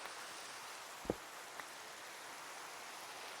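Steady rain hisses across a hillside in Minecraft, an even wash of patter with a couple of faint ticks partway through and no voices.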